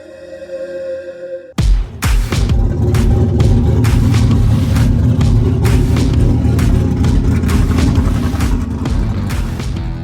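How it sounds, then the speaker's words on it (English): A Chevy Nova V8 with a big, choppy cam starts abruptly and settles into a loud, close, lumpy idle with an uneven rhythmic loping pulse that continues to the end. "That is his Chevy Nova. Nice, big, choppy cam for a really cool sounding idle."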